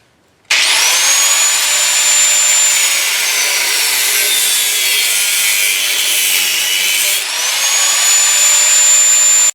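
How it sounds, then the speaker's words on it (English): An angle grinder cuts the flange off a ball joint on a Trailblazer or Envoy, a loud close high-pitched whine with gritty rasp that dips and winds down briefly near the end before spinning back up. "we're going to take an angle grinder and cut this little flange off"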